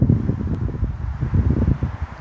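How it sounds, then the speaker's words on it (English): Outdoors on a windy day, gusts buffet the microphone in a low, rumbling roar that swells and fades unevenly across a couple of seconds, with no voice heard. "It's a little bit windy, so if there is some noise going on in the background, I apologise from now."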